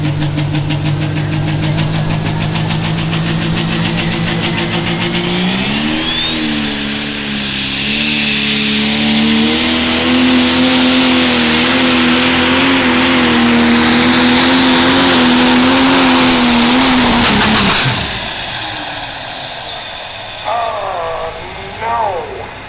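A 10,000-pound turbocharged pro stock pulling tractor roars close and very loud at a tractor pull, its engine climbing in pitch with a rising turbo whine before cutting off abruptly near the end, leaving softer rumbling.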